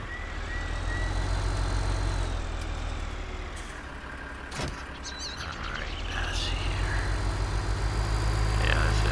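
A tractor engine in Farming Simulator 19 runs with a loud low rumble that dips and swells, broken by a brief sharp knock and hiss-like noises near the middle before the drone rises again.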